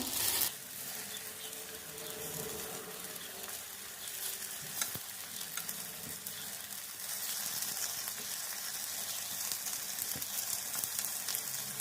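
Meat-filled Transcarpathian crepes (benderyky) crackle and sizzle steadily in a frying pan as they are flipped to brown the other side, with soft scraping and tapping from the turning over the constant fry.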